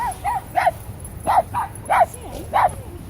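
Dogs at a dog park, with a Great Dane among them, barking in sharp, evenly spaced yips, about five or six close barks mixed with whimpers and low growls.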